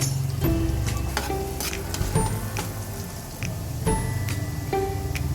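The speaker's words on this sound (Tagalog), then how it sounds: "So now, igisa na po natin ang ating garlic. Let's wait until it turns to slightly golden brown" Garlic sautés in a pan with a loud, close, steady sizzle. A spatula stirs and scrapes through the oil, adding clinks and crackles.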